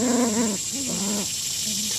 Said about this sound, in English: And they're having a wonderful 4-way tug of war.